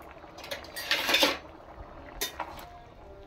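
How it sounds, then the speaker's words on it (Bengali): A metal lid comes off a pot of jackfruit curry with a few clattering clinks and scrapes, a burst of rattling near the middle, then brief knocks, close and fairly quiet. "দেখি ঢাকাটা খুলে"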